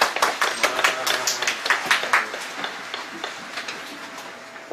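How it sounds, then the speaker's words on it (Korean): A church congregation clapping during a special early-morning revival service, many hands beating in a fast, fairly even rhythm that holds steady and fades slightly near the end. "우리 하나님께 감사와 영광의 박수를 올려드리겠습니다."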